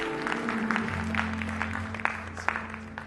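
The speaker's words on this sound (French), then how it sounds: "On lui donne une bonne main d'applaudissement pour ce qu'il a fait à la croix." A church congregation applauds in steady, moderately loud clapping over a sustained low musical drone, with a few sharper claps standing out near the end.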